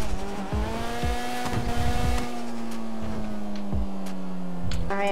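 A car driving in the video game GTA RP: a steady, droning engine hum holds an even pitch throughout the clip, loud and close, with brief scuffing noises and no talking.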